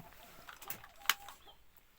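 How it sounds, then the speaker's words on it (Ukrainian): A hen clucks in a backyard coop where hens sit on nests laying eggs. The clucks are faint and distant, scattered over a soft background with one sharper sound in the middle. "Вон уже кричить одна, мабуть, знеслась або несеться."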